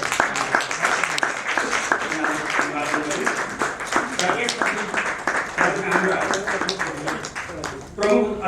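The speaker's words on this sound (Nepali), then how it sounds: "आजका हाम्रो प्रमुख अतिथिज्यूलाई पनि जोडदार ताली" Dense, steady applause from an audience at the 23rd anniversary ceremony of a Nepali literary family quarterly magazine, with continuous clapping throughout and voices mixed in.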